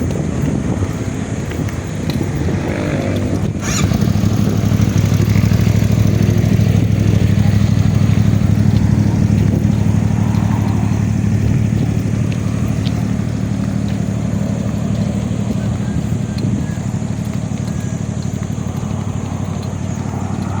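Motorcycle engines idle in a steady, loud, low drone that runs the whole time with little change.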